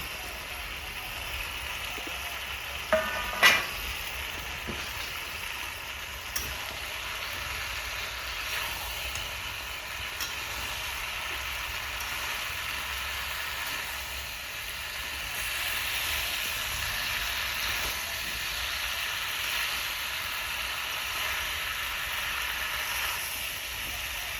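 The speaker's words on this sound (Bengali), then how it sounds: "ইঁচড়টা আলু সবাই একসঙ্গে কষে দিলাম" Jackfruit and potatoes with drumsticks sautéing together in gravy in a pan, producing a continuous soft frying hiss with a couple of brief clatters early on.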